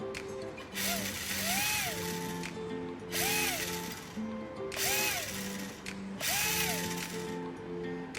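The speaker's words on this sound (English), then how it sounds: "Now let's see how the battery is and the motor." A Losi Micro-B RC car's small electric motor whines up and down in four repeated bursts of about a second each, with rising and falling pitch sweeps and a faint background hum between revs.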